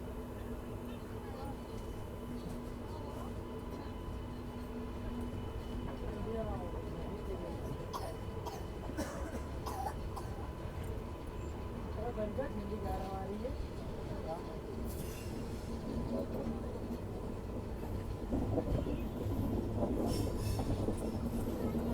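A night passenger train runs steadily, heard from inside a crowded general-class coach: constant low rumble with rhythmic wheel clicks and occasional squeals, while passengers talk and cough in the background.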